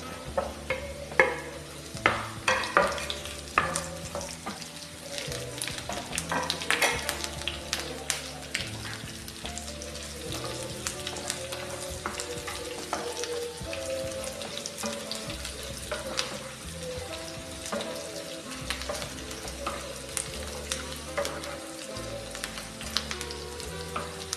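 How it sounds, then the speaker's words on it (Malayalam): Green chillies, curry leaves and garlic fry in oil for a bitter gourd pickle, a continuous close sizzle mixed with frequent stirring clatters and scrapes. "കറിവേപ്പിലയും കൂടി ചെറുതായിട്ട് മൂത്ത് വരുമ്പോൾ ഇതിലേക്ക് പച്ചമുളക് ഇട്ട് കൊടുക്കുക"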